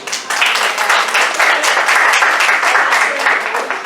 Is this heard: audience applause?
yes